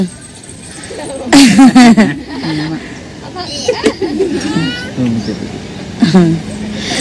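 A kitten meows in several short, high, wavering cries spread across the stretch, close by and fairly loud, mixed with a child's and an adult's voices talking and playing nearby.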